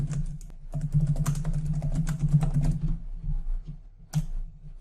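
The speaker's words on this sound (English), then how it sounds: "I could hit the Enter key and that will take me down to the next line and I can carry on typing" Rapid typing on a computer keyboard, with close, crisp key clicks in quick irregular bursts and a brief pause before a final few strokes, heard alone with no talk.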